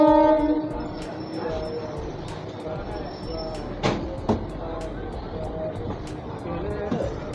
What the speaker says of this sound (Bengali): আমাদের ট্রেন এই মধ্যে ছেড়ে দিল অন্ডাল জংশন